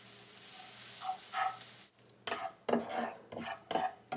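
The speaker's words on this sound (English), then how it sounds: "Continue mixing until everything's incorporated nice and gently." A utensil stirs cooked mushrooms and leeks with creme fraiche in a pan with the heat off. Soft scraping and squelching strokes come in short irregular bursts, quiet and close, with a brief pause partway through.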